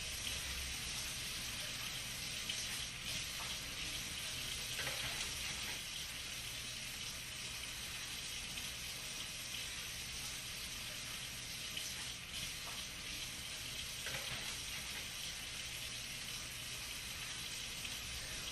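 Water runs steadily from a faucet during a surgical hand rinse, a continuous even hiss of flowing water that stays unchanged for the whole stretch, with no voices.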